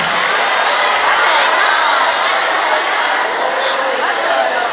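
A large crowd claps and cheers for a young man at a lively gathering, a dense wash of clapping mixed with shouts and chatter, loud and sustained throughout.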